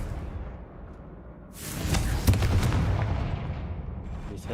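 A Confringo fire spell blast in Hogwarts Legacy erupts midway as a loud whooshing burst with crackling impacts, rising over a low rumbling game background and fading slowly.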